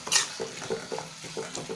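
A spoon stirs mashed brinjal and tomato in a pan for gotsu, with a soft rhythmic scraping repeating about every quarter second under a faint sizzle, close and quiet.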